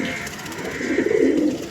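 A pair of male Andhra breed pigeons coo in soft, rolling, throaty bursts, growing louder and more continuous toward the end, close by with no talk.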